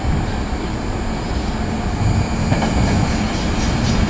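A SEPTA commuter train, number 577 bound for Thorndale, pulls into Temple University station in a loud, close, continuous rumble of wheels on track with faint squeals.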